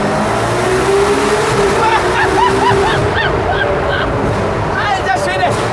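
A Ferrari 812 Competizione's V12 roars loud and close at Autobahn speed, its tone rising and breaking through gear changes, while someone talks excitedly over the engine.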